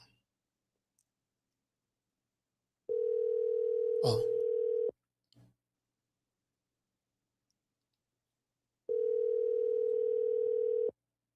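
A telephone call back rings out as two long, steady electronic tones about six seconds apart, separated by silence, with a sharp click between them.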